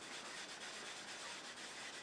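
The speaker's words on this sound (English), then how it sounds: "I'm just really rubbing it in" Steady, close friction of a cloth rubbing finish over lacquer into a fire-burned ash wood bowl, a continuous brushy hiss with slight rhythmic swells and no voices.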